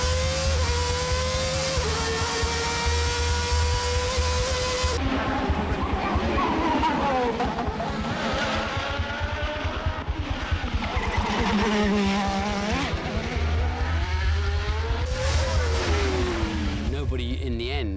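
Ayrton Senna's day-glo McLaren Formula 1 car on its 1988 Monaco qualifying pole lap, engine screaming loud and close, pitch rising and falling through rapid gear changes, with a voice talking over it throughout.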